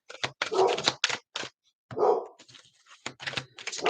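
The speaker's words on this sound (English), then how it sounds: "Sorry, my dogs are barking." Several dogs barking indoors in repeated loud bursts with short pauses, close to the microphone, with some yips mixed in.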